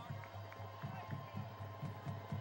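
Crowd noise in the stands at a 2006 Homewood versus Minor high school football game: a steady, moderately loud murmur of many voices with faint cheering swells and a repeating low thump, heard at a distance.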